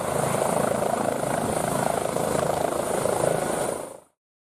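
A helicopter drones steadily nearby, its rotor and engine noise loud and constant, with no voices, before cutting off.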